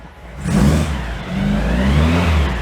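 A 1967 Volkswagen Microbus engine idles and then revs up twice, a deep mid-pitched motor swelling loud and close with no talking.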